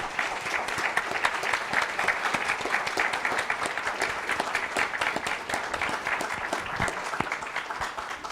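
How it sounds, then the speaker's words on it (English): Sustained, dense applause from an audience for a panel on impact entrepreneurship, a continuous even patter of many hands with no pause. "I want a really tremendous applause for this incredible panel."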